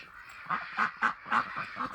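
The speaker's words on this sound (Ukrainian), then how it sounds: "Наші качечки." Ducks quack in an insulated shed during snowy winter, sounding as a rapid string of six nasal, honking calls at a steady rhythm, close and moderately loud.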